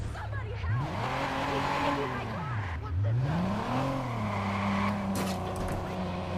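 A car in the video game Watch Dogs drives with engine pitch sweeping up and down through repeated gear changes, loud and close, while someone talks over it.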